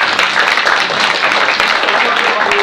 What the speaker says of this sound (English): So big hand of applause to